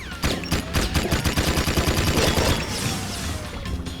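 A weapon in the video game Jak II fires rapid, sustained bursts at metalheads, a dense rattle of repeated shots that runs steadily for several seconds and stays loud without pause.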